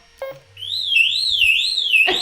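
An electronic alarm wails in a steady rising-and-falling siren tone, loud and close, after a brief clunk at the start.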